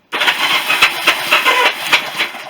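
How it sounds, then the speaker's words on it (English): The starter motor of a Honda CB350 motorcycle cranks continuously, a loud, close grinding whir with uneven rhythmic pulses that starts abruptly and runs without talk. "That noise you can hear there is just a starter."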